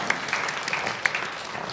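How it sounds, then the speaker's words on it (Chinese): Scattered hand claps from a small church congregation, uneven and somewhat distant, over a low room murmur. "我们用拍掌来为这些急难家庭，"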